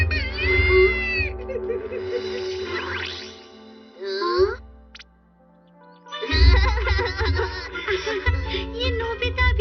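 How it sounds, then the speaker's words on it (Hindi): A cartoon cat from Doraemon lets out wavering, tonal meows in short bursts, mixed with animated children's voices and busy background sound, with a brief quiet gap before the noise picks up again. "डरावनी बिल्ली!"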